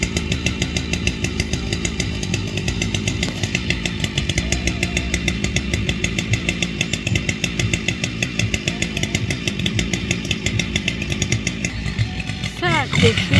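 A chainsaw runs steadily and loudly throughout while being pulled with a tractor cable rig during forestry work, its motor droning with rhythmic revving; a short whistle-like tone appears near the end.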